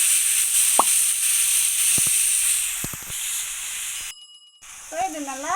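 Marinated chicken pieces frying in hot oil, a steady loud hiss of sizzling with a few sharp pops and plops, briefly cutting out before bubbling resumes.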